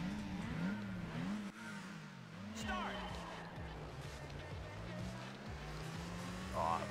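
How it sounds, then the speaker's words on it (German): Renault Megane accelerating on the Nürburgring Nordschleife in Gran Turismo on PSP, an engine note rising and falling through gear changes under someone talking. "Dann fahren wir doch mal den Nürburgring. Die gute alte Nordschleife. Mit dem Renault Megane."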